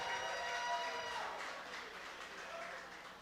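Crowd cheering and clapping at Wild Wing Cafe as basketball player Charlie Henry is welcomed, a broad wash of applause that starts loud and slowly fades.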